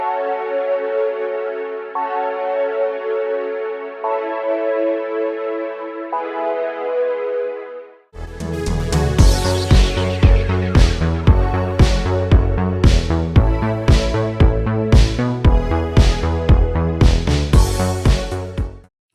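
Layered U-He Diva synth key sound with a Super VHS effect in an 80s Italo disco production: soft sustained chords alone at first, then joined by a full, punchy beat with pulsing bass and bright repeated hits.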